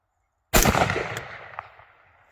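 A rifle fires a single sharp, loud shot after being switched from safety to fire, and the report rings out and decays over about two seconds.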